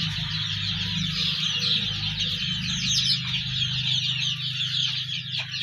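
Farm chickens clucking and murmuring close by while pecking at leaves, a steady chorus of soft calls with occasional sharper notes, no one talking.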